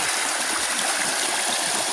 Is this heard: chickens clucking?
no